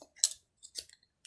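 A few quick snips of scissors trimming the loose end of crochet yarn, close and crisp, with short pauses between cuts in an otherwise quiet room.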